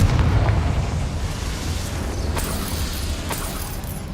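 A Confringo spell explodes in the Hogwarts Legacy video game, a loud low boom at the start trailing into a rumbling, crackling wash of debris with a few sharp pops.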